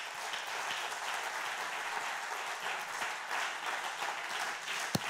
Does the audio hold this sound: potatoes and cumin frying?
no